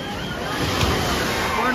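Strong sea waves roll in at Kothapatnam beach during a Ganesh idol immersion, a loud, close, continuous surf wash with a brief swell near the middle, and voices mixed in.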